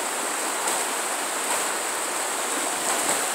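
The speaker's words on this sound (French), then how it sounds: "Une belle petite rivière sauvage dans le bois." A small wild river flowing through woods, its steady broadband rush of moving water continuous and close, with no voices over it.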